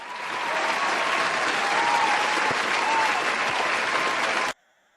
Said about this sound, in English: Gonna give you a little bit of applause here.